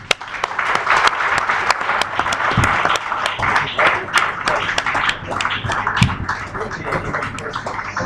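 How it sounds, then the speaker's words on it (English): An audience at a live event gives a sustained round of applause, dense steady clapping from many hands close by, continuing throughout without a break. "let's give him another round of applause"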